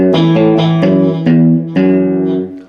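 An electric guitar plays the opening measure of a song, a run of plucked notes with open strings ringing, loud and sustained with a slight distorted edge and no talk.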